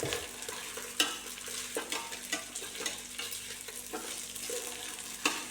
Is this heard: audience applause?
no